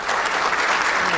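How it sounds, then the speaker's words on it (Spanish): An audience at a fire-safety congress in Panama claps loudly in a dense, continuous burst of applause. "Recibámosla con un fuerte aplauso."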